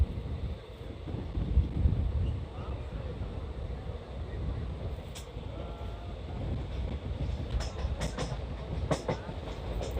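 A passenger train runs along the line approaching Bareilly Cantt station, a steady broadband rumble of wheels and carriage noise with faint clicks, heard continuously from inside or beside the moving train.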